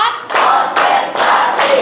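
A group claps together in a counted classroom focus routine, bursts of clapping arriving in steady rhythmic blocks of roughly a half second each, close and fairly loud, with no talking.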